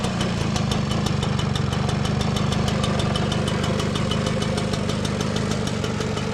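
A 1984 Puch Austro Daimler motorcycle engine idles after its first cold start in decades, a steady, rapid, close putter with a mechanical knocking rhythm and no voices.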